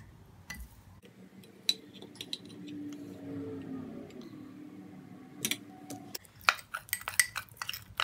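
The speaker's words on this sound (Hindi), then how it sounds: "शहद 1 टेबल स्पून। इसे हम रोज़ वाटर के साथ मिक्स कर लेंगे।" Honey is stirred with homemade rose water using a spoon in a dish, giving soft clinks and scraping taps. Quiet stretches break up the stirring, and sharper clicks cluster toward the end.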